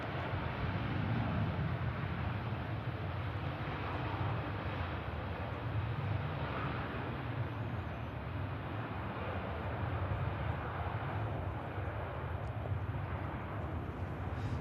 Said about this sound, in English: Air tanker A330 operating on behalf of Jet2, just departing 23 left